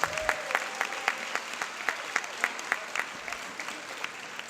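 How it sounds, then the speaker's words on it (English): A crowd at a high school graduation ceremony claps steadily, with sharp individual claps standing out over the dense spatter of hands; a brief whistle-like tone sounds near the start. "give them a round of applause"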